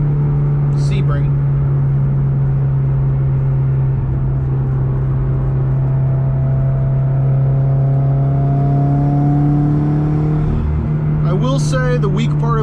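A tuned 2015 Subaru WRX with the FA20DIT turbo engine drones at a steady, sustained pitch from inside the cabin, rising slightly near the end, with brief voice-like sounds at the start and close.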